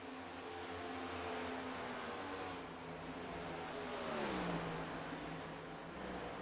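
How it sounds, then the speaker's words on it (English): Race car engine in a sim racing game at Texas Motor Speedway, a sustained droning whine with shifting pitch that dips and rises mid-clip as revs change, steady and fairly loud without any talking. "Trying to tell if that car sounds like it's got some damage"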